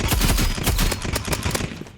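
Rapid, loud, evenly spaced shots from a paintball gun in the Roblox shooter Rivals, a steady stream of popping fire with no voices.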